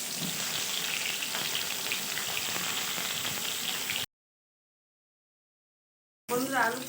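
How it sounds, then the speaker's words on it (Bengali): Turmeric-coated potato and pointed gourd pieces fry in oil with a steady crackling sizzle for about four seconds, then silence, then the sizzle returns with a brief voice over it. "এই আলু পটল তেলের মধ্যে ভেজে দেবো লাল লাল করে।"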